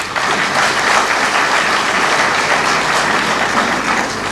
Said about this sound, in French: je vous demanderai d'applaudir nos formateurs